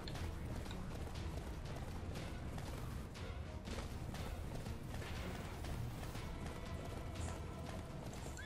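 Horse galloping in the game Attack on Titan: Wings of Freedom, a steady clip-clop of hooves running continuously under dense game sound effects and background noise, no speech.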